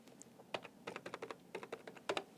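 A sequence of quick keystrokes on a computer keyboard as an amount is keyed into accounting software, about a dozen crisp clicks coming in short bursts, close and fairly quiet.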